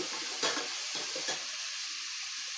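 Onions sizzle and crackle steadily in a hot pan, with a few clattering stirs near the start and no voices.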